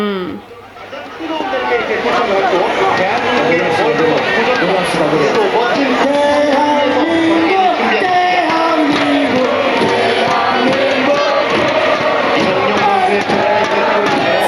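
A huge crowd of people gathered by City Hall in Seoul keeps up a loud, booming wall of chanting and shouting, close and continuous, with nearby voices talking over it.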